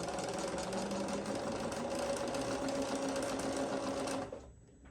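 Sewing machine stitching down a row of a quilt being set on point with setting triangles, a steady close rapid whirring hum that runs evenly for about four seconds before stopping.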